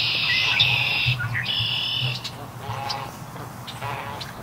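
Several blackbirds sing and chirp in the trees overhead in bright, overlapping phrases, with a steady low rumble of background noise underneath.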